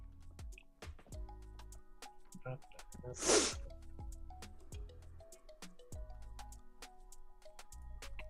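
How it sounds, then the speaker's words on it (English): A person gives one short, sharp sniff up close, standing out midway through a steady bed of background tones and clicks. "Who's sniffing?"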